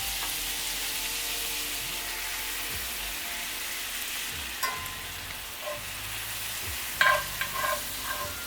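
Butter and flour being mixed in a pan for a brown gravy: a steady, fairly quiet sizzle with occasional scraping stirs, and a few sharper clinks and scrapes near the end, with no talking.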